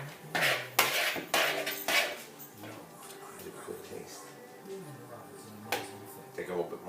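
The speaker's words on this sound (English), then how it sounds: "you start mixing like you're making mashed potatoes" A utensil scrapes and clinks against a bowl in irregular bursts while potatoes are stirred and mashed with butter, with a voice murmuring faintly in the background.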